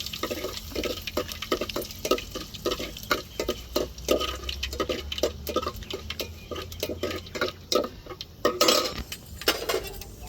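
Dried vathal berries being added to a hot mustard-seed tempering and stirred in a pan: repeated metallic scrapes and clinks of a spoon against the pan over a soft, steady background sizzle, close and moderately quiet, with no talking.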